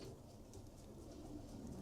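Racing pigeons coo softly in a loft, low murmuring calls under a faint, steady background hiss, close but quiet.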